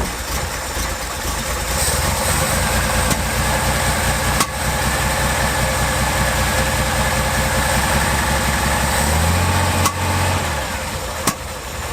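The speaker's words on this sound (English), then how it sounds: "That's fuel getting through into the exhaust, flowing, popping in it." A Reliant Scimitar engine idles loudly and close up with a steady low rumble, while unburnt fuel in the exhaust sets off several sharp pops spaced a few seconds apart.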